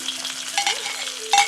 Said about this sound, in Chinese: 咱们把葱姜、洋葱倒进去爆香